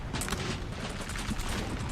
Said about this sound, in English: I'm still getting fire on them from my cannons.